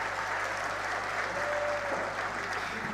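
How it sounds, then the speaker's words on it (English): A conference audience at a high-level TB board meeting claps in steady, moderate applause, a continuous wash of hands that fills the whole stretch with no speech over it. "I think we should please give them a very loud round of applause."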